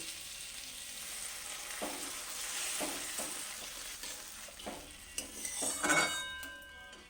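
Tomatoes and cabbage fry in a pan as water is poured in, a steady sizzle under repeated stirring and clinks of a utensil against the pan, with a sharper burst of sizzling toward the end; nobody speaks.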